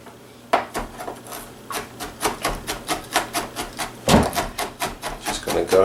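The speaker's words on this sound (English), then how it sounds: "Just going to go ahead and keep chopping pecans nice and fine." A knife chops pecans finely on a cutting board, giving a quick, steady run of sharp wooden taps and crunches, close up, with the rhythm picking up toward the end.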